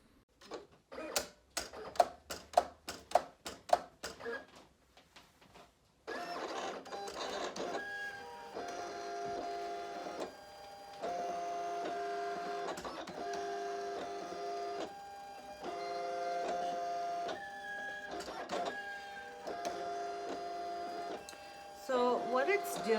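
A Silhouette Cameo 4 cutting machine cutting cardstock: a burst of sharp rapid clicks, a brief pause, then sustained whirring motor passes with a tonal whine, stopping and restarting in segments.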